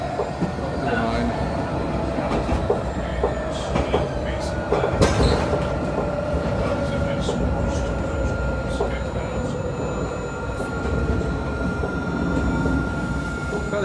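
A tram rumbles and squeals as it pulls into a station, with a steady whine and rail noise throughout, fairly close, while voices murmur faintly underneath.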